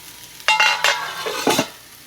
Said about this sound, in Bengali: সোয়াবিনের মধ্যে পরিমাণ মতন জল দিয়ে দিয়েছি এবার সোয়াবিনটা ঢেকে দেবো